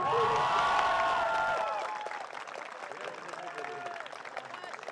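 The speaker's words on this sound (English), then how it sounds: "Let's cheer for Charan one more time." A graduation ceremony audience claps and cheers at moderate distance, the applause fading after a couple of seconds into scattered clapping and murmuring voices.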